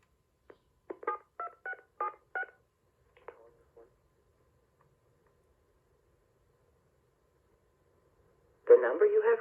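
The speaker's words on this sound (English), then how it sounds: "I started dialing the regular testing number I call" Touch-tone keys pressed on an early 1990s AT&T 1506 desk phone, several short, clear DTMF beeps in quick succession, then silence before a line signal begins.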